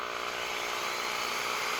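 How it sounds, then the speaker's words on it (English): Power drill motor whirring steadily and loudly at close range, a continuous high buzzing hum with no breaks. "Now I want you to listen first to the sound of this drill"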